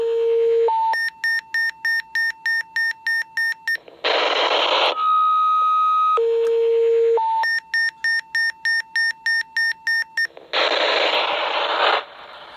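Quick Call II radio signaling tones for a fire pager: a short two-step tone, then a rapid pulsing series of beeps, a burst of static, a long steady two-tone signal, and the whole sequence repeats loudly and up close.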